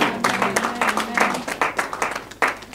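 Wedding guests clap together at a customary wedding ceremony in Paris during a solemn moment, a steady ragged patter of many hands with a voice sustaining a tone beneath.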